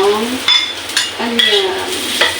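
Garlic fries and browns in oil in a pan while cooking chicken monggo, making a loud, steady, close sizzle with occasional stirring scrapes and a voice faintly over it.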